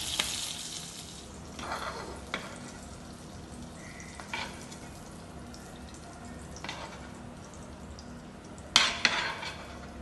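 Mushrooms with butter cooking in a pan, a soft steady sizzle with occasional clinks and stirring scrapes, close and fairly quiet.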